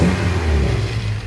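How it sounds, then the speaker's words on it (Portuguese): A rebuilt VW AP 1.8 engine is revved briefly while running, producing a loud, close, rising-and-settling mechanical rumble with no voices over it. "Vou dar uma acelerada nele aqui um pouquinho"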